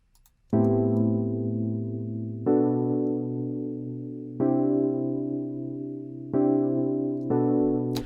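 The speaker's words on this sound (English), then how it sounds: "Now, the piano by itself, again, sounds like this." Piano chords from an R&B beat play alone in a Studio One session, five sustained struck chords in a slow rhythm, each ringing and decaying before the next, clear and close.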